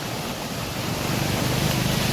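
Floodwater rushing through culverts among flooded fields near Lohian, a steady dense roar of moving water filling the whole clip without pause.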